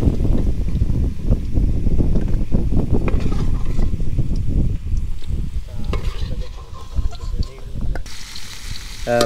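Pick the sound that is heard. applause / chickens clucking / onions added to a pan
onions added to a pan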